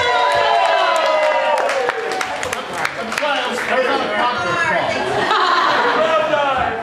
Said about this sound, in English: let's cheer him again